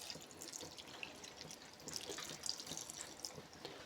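Water poured into a container while grinding coconut, shallots, garlic and cumin for moru curry, a faint steady trickle with a few small drips, close and quiet, no voices.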